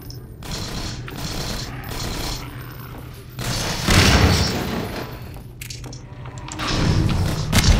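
Exploding gas canisters and gunfire in Half-Life 2 Episode Two: heavy booms and bursts of shots roll out in irregular waves, loud and close, with a voice talking between them.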